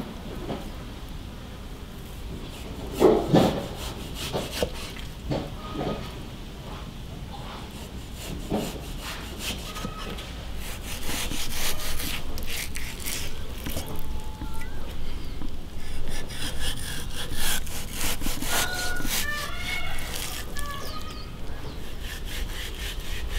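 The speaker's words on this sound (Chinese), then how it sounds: "这个肉冻过的，它就是好切些。" A knife cuts through frozen pork from a home-slaughtered pig with repeated close, gritty rasping strokes that grow denser and louder toward the end, with occasional light knocks on the board.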